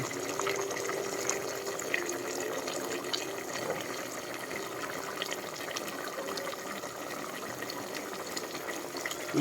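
Steady hiss of tap water running continuously at low volume, with faint splashing texture throughout.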